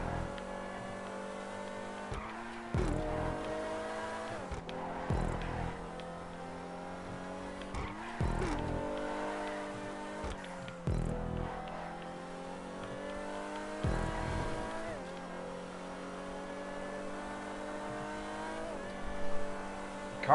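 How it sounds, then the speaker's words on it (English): A supercar races in GTA 5, its engine whining in repeated rising gear pulls broken by shifts and short tire squeals, loud and continuous with no talk. "This is pretty much my first supercar that I've raced. And this car has so much traction."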